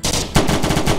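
Automatic gunfire from an enemy emptying a full magazine in a VR police video game, a dense rattling burst that breaks off briefly and then resumes louder, close and with no talk over it.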